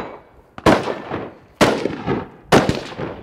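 Rifle fire on an outdoor range while zeroing a carbine from the prone position: three loud, sharp shots about a second apart, each with a rolling echo that decays before the next.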